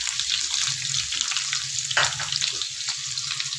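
White onion sautés in a pan for an Ilocano dinengdeng, a bright, constant sizzle with soft bubbling crackle and a brief stir near the middle, close and alone without talk.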